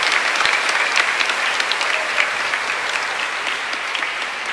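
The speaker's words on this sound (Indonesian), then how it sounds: "Kita berikan tepuk tangan untuk frater" A church congregation claps steadily for a seminarian, a dense, even round of applause lasting the whole stretch with no pauses.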